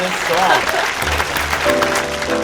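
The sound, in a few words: audience applause for a singer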